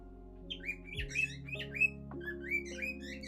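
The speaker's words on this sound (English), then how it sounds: "So much for the crows, we've got a cockatiel." A cockatiel calls with a run of chirpy, whistled notes and short squawks, fairly faint against a quiet, humming background.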